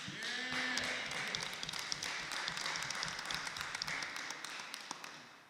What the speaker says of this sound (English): You can clap it up again